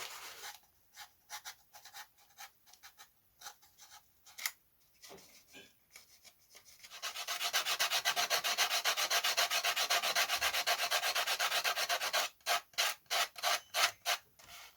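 Paring and shaping a glued wing fillet on a Guillow's Spitfire balsa model: quick rhythmic scraping and rubbing strokes, close and light, broken by a longer steady sanding stretch, then more short rapid strokes.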